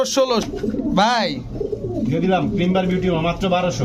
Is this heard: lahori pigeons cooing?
yes